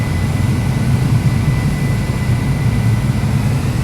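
An airplane on final approach into John Wayne Airport in Orange County passes over a house in stormy weather, a steady, loud low engine roar that holds constant throughout without fading.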